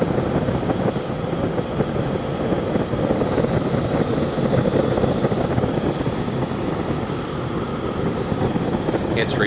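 A homemade propane furnace built from a peach can roars steadily and loudly at close range, a continuous broadband burner rush with a mold sitting in it, no talk over it.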